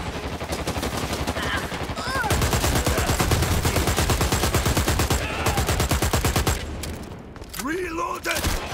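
Sustained rapid automatic gunfire in the Dirty Bomb shooter game, loud and continuous with brief breaks, while voices and game sounds come through in the gaps.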